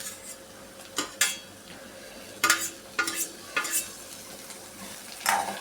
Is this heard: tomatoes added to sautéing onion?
yes